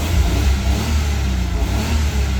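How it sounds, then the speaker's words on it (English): A BMW E31 850i V12, long abandoned and newly revived, revs hard in a loud, sustained low roar that holds steady with slight swells, close by and alone with no talk. "that's how a V12 is supposed to rev."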